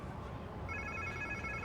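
A phone rings in the Spider-Man 2 video game, a faint repeating electronic tone over a dense background rumble of game ambience.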